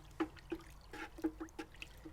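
Liquid fish fertilizer trickles and drips into water while making an organic blueberry fertilizer, a faint, close pouring with small splashes in an uneven rhythm.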